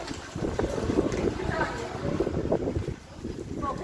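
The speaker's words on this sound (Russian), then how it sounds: "Это ветер ужасный." Strong wind gusts outdoors in Simferopol roar as a steady, buffeting rumble across the microphone, with voices talking through it.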